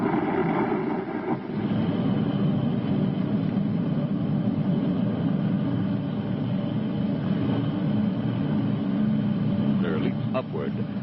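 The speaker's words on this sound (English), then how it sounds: "Thrusting forth tons of energy, the huge rocket engines drive the Space Patrol ship deeper into space" Huge rocket engines fire on the Space Patrol ship, a loud, steady roaring rumble that holds without a break, with a faint voice near the end.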